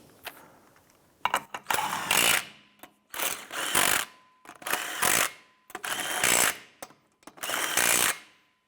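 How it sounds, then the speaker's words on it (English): Power tool, likely an impact wrench, snugging the wheel lug nuts on a 2005-2007 Ford Five Hundred during rear brake work: five loud, close bursts of whirring and hammering, each about a second long with short gaps between. "Once those are installed, I'm going to go ahead and snug them all down."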